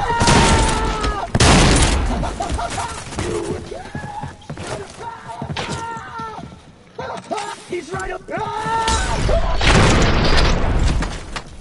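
Repeated heavy shotgun blasts from the Trepang2 video game, loud booming bursts in irregular succession with game music and effects underneath, and someone talking over them.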